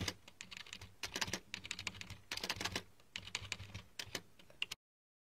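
Keys clatter on a computer keyboard in quick bursts of rapid typing, close and fairly quiet, with short pauses between runs of keystrokes before the sound stops.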